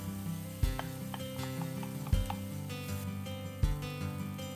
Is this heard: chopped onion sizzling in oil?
yes